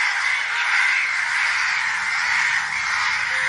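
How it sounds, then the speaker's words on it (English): Crows mobbing a solitary owl by day, a dense continuous chorus of overlapping harsh honking calls, loud and unbroken from start to finish. "During the day, owls are often subject to attacks from almost all other bird species, especially crows."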